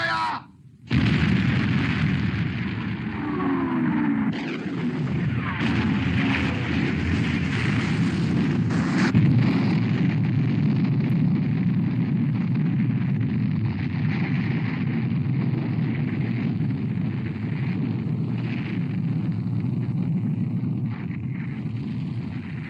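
In a black-and-white British war film, naval guns fire and HMS Hood explodes: an abrupt blast is followed by a long, heavy rumbling roar of booms and rolling explosion that fills the whole stretch without speech.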